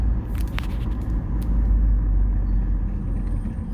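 A Lexus IS350 with a throttle idling problem sits at a stop in neutral. Its engine gives a steady, low rumbling idle, close and unchanging, with faint road noise around it.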